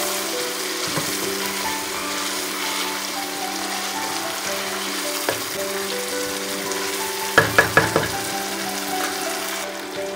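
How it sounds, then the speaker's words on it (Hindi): Chicken cooks in a spice masala in a pan with a steady, close sizzle and frying hiss throughout, broken by a few sharp knocks of a utensil on the pan. "थोड़ी देर और चिकन को इसी मसाले में मैं पका रही हूँ।"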